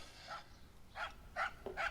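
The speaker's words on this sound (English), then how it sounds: "Shut that dog up." A dog barks several times at a distance in a domestic setting, sharp separate barks spaced about half a second apart, somewhat faint and muffled.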